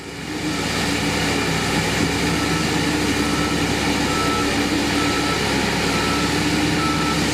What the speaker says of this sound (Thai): งัดสับไปเกียร์ถอยเลย ดันให้สุดซอยถอยสุดกำลังครับ